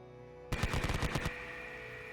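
A medium machine gun effect from the tabletop wargame Konflikt '47 fires one rapid burst of about a dozen loud rounds lasting under a second, then leaves a low background hum.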